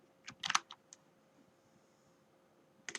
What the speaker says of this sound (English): we're going to just be typing in all the words that you see on page